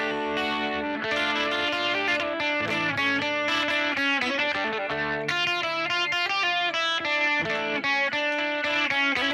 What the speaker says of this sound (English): add a little distortion to the guitar